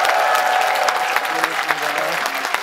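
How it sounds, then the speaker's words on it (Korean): Audience applause at the launch rally of the Green Justice Party, thanking the performers Kkotdaji: steady clapping from a crowd with a few sharper individual claps standing out, fairly close. "다시 한번 감사의 박수를"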